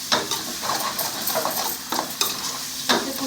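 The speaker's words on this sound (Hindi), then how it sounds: "अब इसको फ्राई करेंगे, मसाले मिक्स करूँगी और कुछ देर फिर से इसको मुझे फ्राई करना है।" Bitter gourd (karela) pieces fry with spices in a pan and are stirred with a spoon, giving a steady sizzle broken by a few sharp scraping strokes against the metal, close up and without talk.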